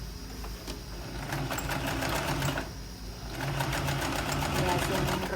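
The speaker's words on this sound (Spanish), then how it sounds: "Le podemos hacer una sobrecostura aquí, como un camiserito, el sport." A sewing machine topstitches a sport-style shirt in rhythmic bursts of close mechanical stitching with a brief pause midway. A person talks over it.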